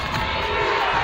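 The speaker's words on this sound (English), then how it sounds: "The crowd coming alive here at Canale as a foul called against Darcy Doran." Basketball crowd roaring at Canale Arena during a women's college game, CBU against Alabama Huntsville at homecoming, after a foul late in a close fourth quarter; a steady, dense wash of cheering voices fills the brief moment without a break.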